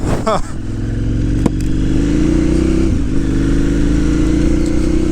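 A KTM 990 Adventure S motorcycle rides off-road, its engine a loud, steady close drone after a brief rising rev at the start, with a short clatter near the middle and a dip and recovery around three seconds.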